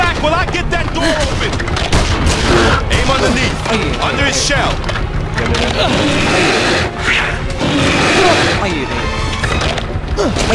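Rapid gunfire and heavy impacts in a King Kong video game, dense bursts of shots and crashes layered over a loud, chaotic mix with excited voices talking throughout.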